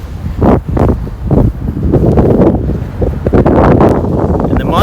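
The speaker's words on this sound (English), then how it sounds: "There was a decent gust." Strong desert wind gusts buffet an outdoor microphone in a California desert city as the monsoon approaches, a loud rumbling roar that surges and dips.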